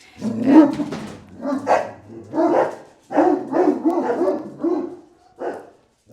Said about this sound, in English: The dogs have started barking and ran up from the table.